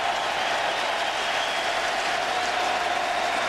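A baseball crowd at a 2006 ALDS Game 3 cheers and applauds in a steady, dense wash of noise that holds evenly from start to finish, with no distinct voices standing out.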